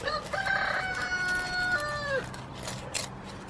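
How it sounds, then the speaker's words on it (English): A rooster crows once in a long, drawn-out call that rises and then drops off, followed by quieter clucking and farmyard rustle. "It seems like we've got all the chickens shouting at the moment."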